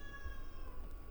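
A house cat meows at close range, a short plaintive call over a steady low hum, with no talking.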